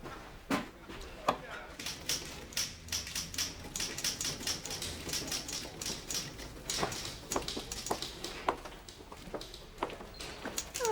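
A typewriter clatters in quick, uneven bursts of keystrokes with the occasional sharper strike, steady for several seconds at close range in a quiet room.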